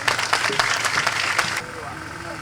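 Audience claps for a minister at the inauguration of the Avrankou mini photovoltaic solar plant: a dense burst of applause for about a second and a half that stops abruptly, followed by quieter tonal sounds.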